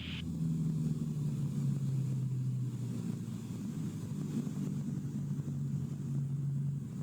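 A Jabiru light aircraft engine drones steadily as power comes back on the downwind leg of a training circuit, a low continuous hum heard from inside the cockpit, fairly faint and even throughout with no talk.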